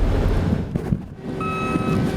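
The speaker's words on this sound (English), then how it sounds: "I got 3 dump trucks running back and forth" A dump truck working a tornado debris site sounds a steady high reversing beep that starts partway through, set against loud rumbling wind and engine noise.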